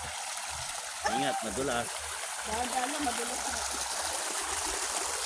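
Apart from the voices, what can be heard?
flowing stream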